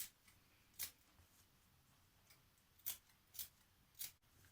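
Fabric scissors snip away excess material from a skirt facing, a few short sharp cuts spaced apart in a quiet room, close and fairly faint.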